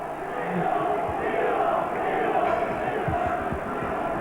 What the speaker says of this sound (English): the biggest cheer of the day